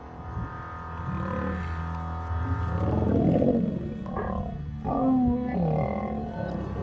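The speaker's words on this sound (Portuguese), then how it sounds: "Ele conseguia rugir e morder o leão ao mesmo tempo." A lion roars during a fight in the wild, giving deep, loud, sustained roars and growls that swell and fall over several seconds with no talk.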